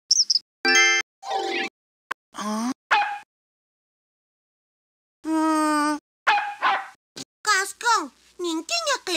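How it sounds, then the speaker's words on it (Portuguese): Cartoon dog from a 1996 CD-ROM video game giving several short, loud yelping barks and whiny wails in separate bursts, with pauses of silence between them and no talk. "Mas eu sei que ele é um cãozinho, principalmente quando late."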